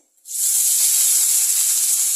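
Three large onions, sliced lengthwise, hit a little hot oil in a kadai and set off a sudden loud sizzle. The sizzle then holds as a steady bright hiss, with no voices.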